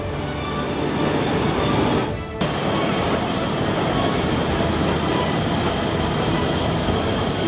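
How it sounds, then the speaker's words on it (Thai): A JNR Class CX50 steam locomotive's steam system warms up, giving a loud, continuous broadband hiss and rush that briefly dips for a moment, then carries on steadily. "นี่คือระบบไอ้น้ำก็กำลังทำงานวอร์มเครื่องไปเรื่อยๆนะครับ"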